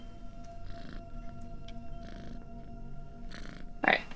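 A cat purrs in the horror game Creepy Tale, a soft rhythmic rumble that swells in several short bursts under quiet game ambience, with one louder burst near the end.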